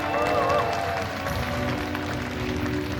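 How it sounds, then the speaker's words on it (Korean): Audience applause at an esports awards ceremony in Seoul, a dense continuous roar of clapping and crowd noise filling a large hall, steady and loud throughout with a faint tonal hum underneath. "여러분 큰 박수 부탁드리겠습니다"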